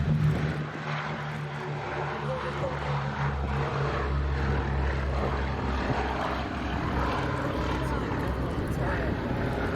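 A Boeing B-17 bomber flies over the Duxford airshow at the Battle of Britain anniversary event, its propeller engines giving a steady, heavy drone throughout while a commentator talks over it.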